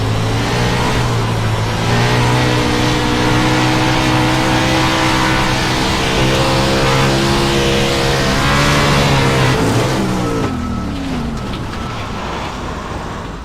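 A race car engine in a racing video game revs hard and steadily, its loud droning pitch climbing and holding before dropping off sharply near the end as the car decelerates, with no voices.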